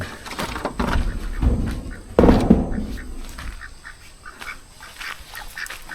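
Ducks quack repeatedly at close range amid general farmyard noise, the calls overlapping and loudest in a burst partway through.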